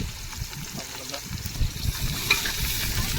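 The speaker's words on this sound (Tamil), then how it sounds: "எண்ணெய் ஊத்தியாச்சு. வெங்காயம் போட போறோம்." Onions frying in oil for a village-style duck curry crackle with a soft, continuous sizzle and occasional stirring, while voices murmur faintly in the background.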